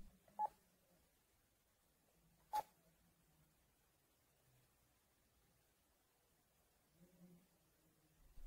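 Two short, sharp keypad tones from a Panasonic KX-TES824 phone system, a couple of seconds apart, over a quiet background with faint murmuring.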